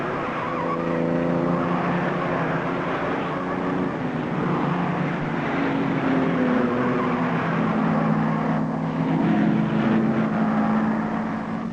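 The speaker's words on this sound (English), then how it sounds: "their car, which lies second to Hawthorne's Jaguar, is about to lap its two teammates" Mercedes racing cars at the 1955 Le Mans 24 Hours roar past in a continuous, loud engine drone with rising and falling pitch, heard on an old film soundtrack without speech.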